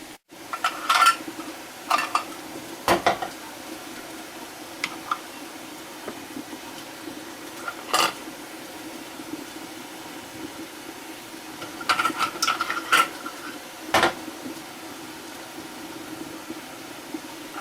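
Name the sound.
draining canning lids and placing them on jars with rings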